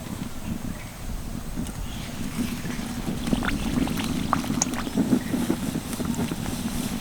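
Pea-stuffed kachori deep-frying one at a time in hot oil in a wok, giving a steady close bubbling sizzle with scattered crackles and pops throughout, no voices.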